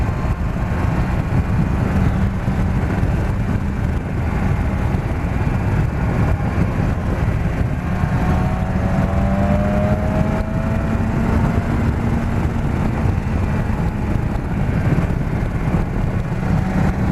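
A 2017 BMW S1000R motorcycle cruising at about 130 km/h in sixth gear near 6000 rpm, a steady, continuous engine drone with road and wind rush, holding a nearly constant pitch throughout.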